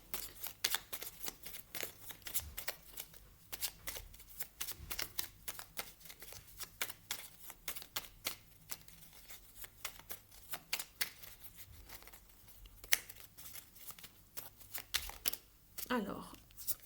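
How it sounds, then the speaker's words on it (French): Oracle cards shuffled by hand before a reading, a steady run of quick papery riffles and flicks, moderately close, with a few soft handling bumps and a brief voice near the end. "je vais maintenant vous tirer une carte du petit oracle"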